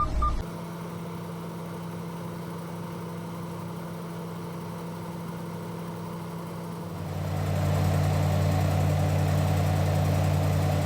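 A truck engine idles with a steady low rumble behind a trailer, then revs up to a higher, louder drone partway through and holds there.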